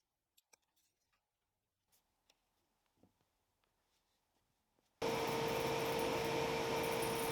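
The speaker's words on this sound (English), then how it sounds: "Cut out the bulk of material on the bandsaw." After several seconds of faint clicks and handling noises, a bandsaw fitted with a 3/4 inch blade starts abruptly and runs loud and steady with a sustained whining tone while cutting wood.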